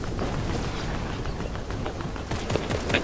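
Continuous bursts of rapid gunfire and sharp shots in Fortnite, dense and steady, with a few louder cracks near the end.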